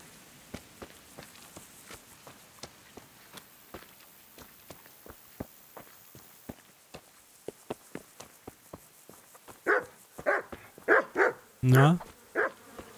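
Dog barks in the medieval role-playing game Kingdom Come Deliverance, a burst of several loud barks near the end after a stretch of soft steady footsteps and ambience.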